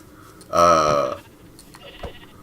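A sheep in the video game Minecraft gives one loud, drawn-out bleat, followed by a couple of faint clicks and taps.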